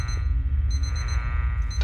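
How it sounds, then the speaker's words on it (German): An alarm clock rings in the horror video game Obsideo, a steady electronic beeping in repeated bursts over a constant low background hum. "Wecker klingelt."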